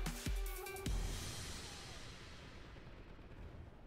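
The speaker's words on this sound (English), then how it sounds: "My sentry gun put in the work." Sentry gun fire in the Call of Duty Ghosts video game: two short heavy bursts of loud, booming gunfire near the start, trailing into a sustained rumbling wash of battle noise.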